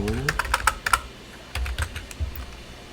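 Rapid typing on a computer keyboard while working with hex-dump hacking tools, a quick burst of close, crisp keystrokes in the first second, then a few scattered taps after a short pause.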